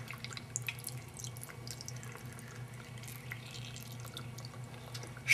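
Vinegar pours over grated horseradish in a home kitchen as a steady, faint liquid trickle with small splashes, running continuously over a low background hum.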